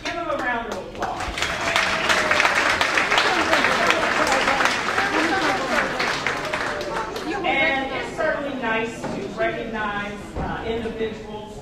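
An audience claps in a round of applause at a recognition gathering, a dense patter of hands heard together with voices talking over it.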